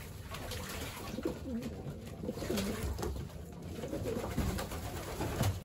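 Racing pigeons cooing softly and repeatedly, low murmuring coos close by with a steady background hiss, no voices.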